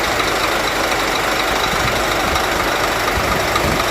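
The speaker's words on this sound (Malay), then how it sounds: "Jom kita tengok dulu enjin untuk bas ini." A Scania New Bus Generation 410 coach engine runs at a steady idle, heard up close as a constant low rumble with a knocking diesel texture and no voices.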